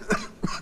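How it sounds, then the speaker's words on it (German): Two short, fairly close coughs from a patient in a doctor's examination room, the second slightly weaker than the first, with no talking over them. "husten Sie einmal bitte"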